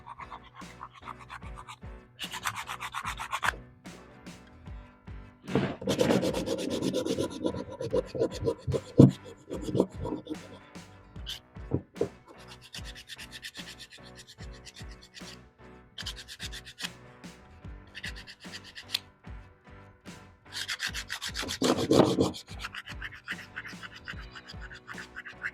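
Sandpaper rubs back and forth over a PVC toy gun scope rail in close, scratchy bursts of several seconds, pausing between passes, loudest in a long stretch early on and again near the end.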